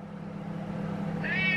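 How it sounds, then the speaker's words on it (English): A cat meows for food in a brief, rising, insistent call near the end, close and fairly loud over a steady low hum. "Cats who yell."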